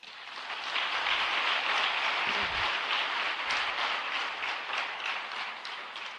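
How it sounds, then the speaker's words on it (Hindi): An audience at a motivational talk breaks into loud applause, a dense, steady wash of clapping that holds evenly from start to finish with no talk over it. "एक इसके लिए जोरदार तालियां"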